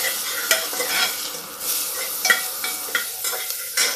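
Onion and garlic fry with cumin in a hot pan while being stirred, a steady close sizzle broken by scraping strokes of the spoon, with no talk.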